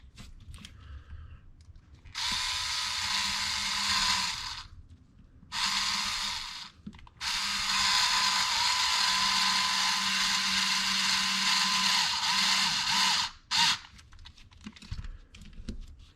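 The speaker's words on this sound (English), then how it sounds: "you want to put in the 25mm screw from this side here." A 25mm screw is driven into an RC car assembly with a powered driver, giving close, steady whirring bursts: one about three seconds long, a short one, then a longer run, separated by quiet pauses with small handling clicks.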